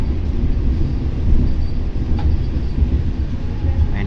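Argo Wilis passenger train running on the rails, a loud continuous low rumble and rattling wheel noise heard from inside the moving carriage.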